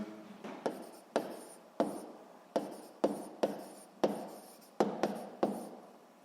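A pen writes on paper in short, regular strokes, about a dozen scratchy bursts in a steady rhythm, heard close and alone.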